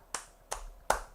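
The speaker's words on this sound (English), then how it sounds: "Applause to Olga." A few sharp claps, three distinct hand strikes spaced evenly and close by, quiet and crisp with nothing else around them.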